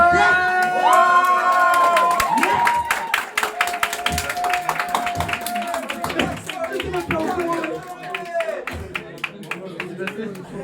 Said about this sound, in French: je vous demande un tonnerre d'applaudissements pour Elliot